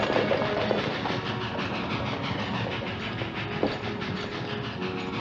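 A train rolls along the railroad with a steady, dense rumble and faint clickety-clack of wagons on the rails, holding at an even loudness for the whole stretch, with a brief squeal partway through.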